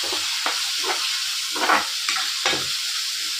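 Dry spices frying in a pan, a steady close sizzle and hiss with periodic scraping strokes as they are stirred, no voices over it.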